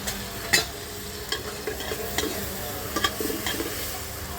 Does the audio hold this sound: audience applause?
no